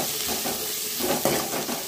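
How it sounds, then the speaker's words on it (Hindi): Sliced onions frying in a pan for coastal Karavali-style crab sukka, a continuous close sizzle with soft stirring swells, moderately loud. "इवाग इदन्न इवाग नावु फ्राई माड्कोळ्ळबेकु स्वल्प चेन्नागि फ्राई माड्बेकु"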